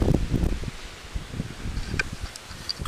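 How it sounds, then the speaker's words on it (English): Strong wind storm gusting in Aberdeen, buffeting the microphone with low rumbling bursts and a rustle of leaves, loud at first and then easing into uneven, fluttering gusts. "Whoa, it's windy."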